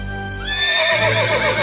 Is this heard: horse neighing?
yes